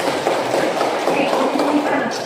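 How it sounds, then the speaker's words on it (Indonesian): A class applauds a student in a classroom: a steady, dense patter of many hands clapping at once, moderately loud and unbroken for a couple of seconds. "Tepuk tangan untuk Rizky"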